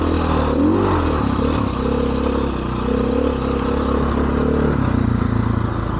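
A KTM six-day dirt bike engine runs steadily on a forest trail, a loud, close and continuous mid-pitched drone with slight revving swells and clatter, heard alone with no speech.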